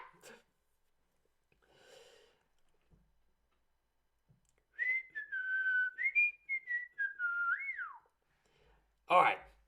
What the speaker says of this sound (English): now that I got that whistle out of my system